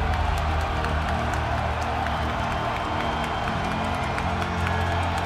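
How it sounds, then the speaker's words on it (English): A stadium crowd roars and cheers at a Jaguars vs. Chargers NFL game, a dense, continuous wash of shouting and applause filling the whole stretch at high level. "And listen to this crowd."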